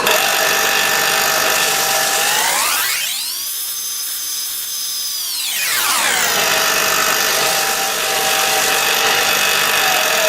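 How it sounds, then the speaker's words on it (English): A bench grinder flattening the cut faces of wood pieces for a bushcraft knife handle, a loud continuous motor whine that dips in pitch under load midway and then climbs back up. "we're just going to flatten off the surfaces on the bench grinder"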